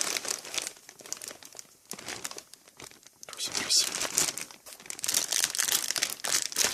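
Plastic mail packaging being torn and crinkled open by hand, close and crisp, in repeated bursts of rustling and ripping with brief pauses, while a voice whispers over it.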